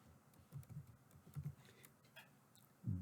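Scattered keystrokes on a computer keyboard while entering text into a spreadsheet, faint and irregular, with a few separate clusters of taps and a louder thump at the very end.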